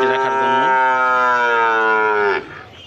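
Cattle at an old rural cattle market in Manikganj, Bangladesh, give a long, loud, close moo lasting over two seconds, its pitch sliding slightly, then ending abruptly into quieter market background.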